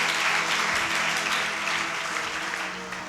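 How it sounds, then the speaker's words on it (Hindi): A church congregation claps loudly during a sermon, a dense continuous burst of many hands filling the room and easing slightly toward the end. "जोरदार तालियां बजाकर कहिए, मैं यीशु से प्यार करता हूं।"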